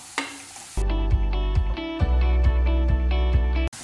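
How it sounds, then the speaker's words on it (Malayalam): Chopped ginger dropped into hot oil with garlic in a pan for chicken pickle, erupting into a loud continuous sizzle with stirring clinks, then cutting off abruptly. "വെളുത്തുള്ളി ചെറുതായിട്ടൊന്ന് റോസ്റ്റ് ആയിട്ട് വരുമ്പോൾ നമുക്ക് ഇതിലേക്ക് 1/4 കപ്പ് ഇഞ്ചി ചോപ്പ് ചെയ്തത് ആഡ് ചെയ്ത്"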